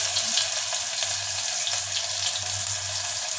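Onion drops into hot oil to temper chana dal, giving a continuous close sizzle with a faint low hum beneath it.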